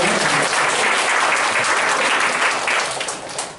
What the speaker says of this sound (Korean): 다시 한번 박수로 감사함을 표했으면 좋겠습니다